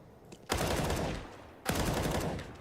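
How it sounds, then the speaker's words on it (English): Two loud bursts of gunfire in Counter-Strike: Global Offensive during a professional ESL Pro League match, shots fired through a wall, each a sharp onset followed by a rapid rattling spray about a second apart. "2 wallbang bullets connect."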